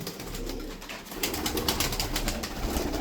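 Tumbler pigeons cooing nearby, soft repeated throaty coos over a busy, rustling loft background, with no talking.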